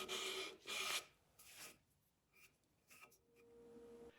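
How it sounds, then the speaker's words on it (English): Sandpaper rubs over small wooden dock parts in several short, close rasping strokes that fade to quieter scrapes, fairly soft overall, with no talking. "I know I can achieve that easily with sandpaper"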